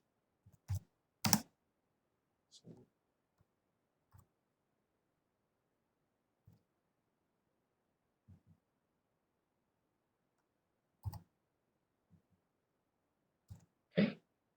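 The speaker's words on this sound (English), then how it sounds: "Now I'm just typing the number." Scattered keystrokes on a computer keyboard as numbers are entered, a few isolated clicks and short bursts spaced across quiet pauses, faint and close with no talking.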